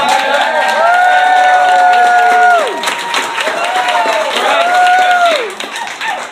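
Audience clapping runs continuously underneath at a community night event, with a voice speaking loudly over it and the applause thinning toward the end.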